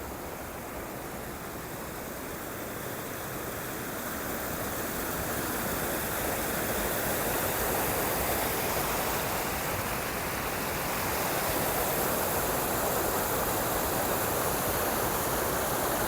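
A mountain stream rushes along a roadside, producing a dense, constant roar of flowing water that stays loud and unbroken throughout, with no voices.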